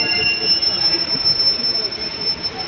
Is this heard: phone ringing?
no